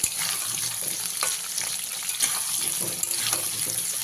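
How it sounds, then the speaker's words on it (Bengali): Cut potatoes sizzle in hot oil with whole spices while being stirred, a close, steady frying hiss with occasional scraping strokes. "আলুটা দিয়ে ভালো করে তেলের সঙ্গে গোটা মশলার সঙ্গে ভালো করে মিশিয়ে দেব"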